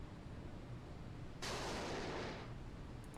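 Type 55 warships launching missiles in the naval combat game Sea Power, a sudden loud roaring whoosh bursting out of a faint noisy background, holding for about a second before fading away.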